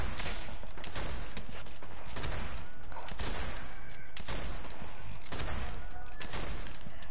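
Rifle gunfire in Fortnite, loud close bursts of rapid shots cracking in clusters with brief gaps, sustained fire dominating the clip with almost no talk.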